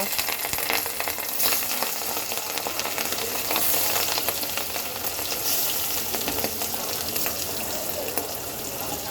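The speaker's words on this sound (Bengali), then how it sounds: "এখন আমি এক এক করে মাছগুলো ভেজে নেব" Pieces of catla fish fry in hot oil in a wok, a loud, continuous close-up sizzle with crackling spits that holds steady throughout, with no talking.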